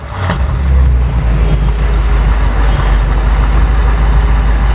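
A car with a fully straight-piped exhaust fires up from cold, a loud, raw rumble that swells in the first second and then settles into a steady, booming idle close by.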